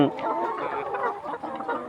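Clucking from 190-day-old layer hens fills a farm shed in a steady, close murmur, with talk mixed in.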